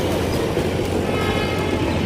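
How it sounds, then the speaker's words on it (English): A passing train rumbles steadily, with rail noise and a low sustained drone that may be its horn, loud and continuous for the whole moment. "the train is like got fucking siren going"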